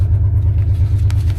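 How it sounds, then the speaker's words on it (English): Honda Shadow 1100 motorcycle engine idles close by with a deep, loud, throbbing pulse that stays even in rhythm from start to finish. "All right, I got the Shadow going"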